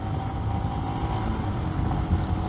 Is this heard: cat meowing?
no